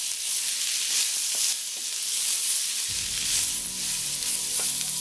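Two or three medium onions fry in a pan for an aloo sabzi, giving a steady, close sizzle throughout, with a deeper bubbling crackle joining partway through and occasional light stirring clicks.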